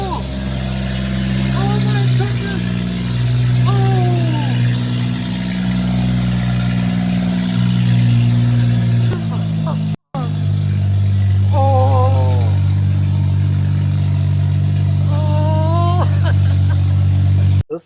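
A crash-damaged BMW M135i F20 engine runs loudly with a steady low drone after seven months unused, briefly cut off, then resuming while people talk over it.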